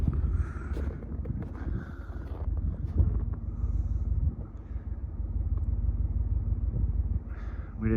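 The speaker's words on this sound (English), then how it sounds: "A little bit of wind." Steady wind rumbles and buffets the microphone outdoors on a snowy Sunday morning in Mammoth Lakes, a continuous low roar with gusty swells and no voices.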